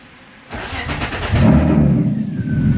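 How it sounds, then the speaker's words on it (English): A BMW E36 fitted with a push-button start cranks and fires up nearby, settling into a rising engine rumble that grows louder and steadies, with no talking. "Car starts up."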